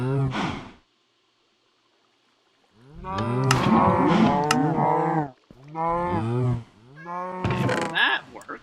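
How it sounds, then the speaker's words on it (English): Several cows moo in the Minecraft video game, a long drawn-out low moo at first, then a series of close, loud moos with short pauses between them. "there are more cows in there than I thought"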